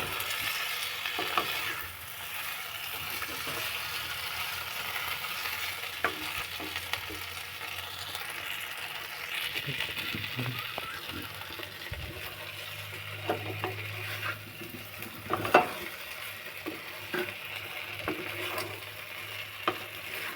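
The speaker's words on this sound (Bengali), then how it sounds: "এর সাথে আমরা সিদ্ধ করে রাখা আলুটা দিয়ে ভালো করে একবার কষিয়ে নেব" Boiled potatoes stirred and fried in spiced oil in a pan, a steady soft sizzle under frequent scraping and knocking of the spoon, continuous for about twenty seconds, no talking.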